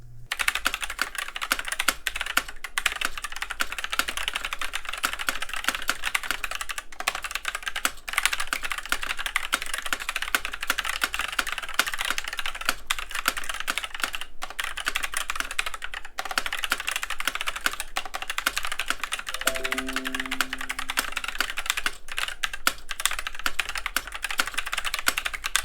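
Steady continuous typing on a stock TM680 mechanical keyboard with stock Cream switches and Cherry-profile keycaps, dense rapid clacks close to the mic with no talking.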